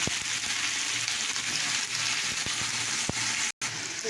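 Onion and green chilli fry in hot oil with a steady, dense sizzle and a few sharp crackles, holding at a constant level apart from one brief dropout near the end.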